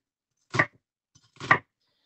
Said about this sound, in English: there's loads of different ways you can cut onions